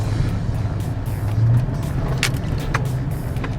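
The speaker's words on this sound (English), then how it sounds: "we're going to see if my truck continues to bounce like a pogo stick when I go" A 2002-2006 Chevrolet Avalanche 1500 4WD pickup truck rolls over a speed bump, its engine a steady low rumble with a brief heavier swell partway through, alone with no talk.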